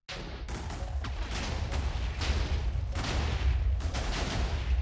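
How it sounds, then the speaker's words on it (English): Explosions blowing up a car in the Minecraft video game come as a rapid run of booming blasts, loud and continuous for several seconds with repeated sharp hits. "Yay, explosions."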